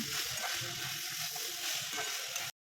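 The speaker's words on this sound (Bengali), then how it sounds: "মাংসের জলটা শুকিয়ে গেলে দু মিনিটের মতো নাড়াচাড়া করে পুরটা রেডি করে নিলাম" Cooked chicken momo filling is stirred in a pan as its meat juices dry off, a soft steady sizzle with faint scraping, fairly quiet and cut off abruptly at the end.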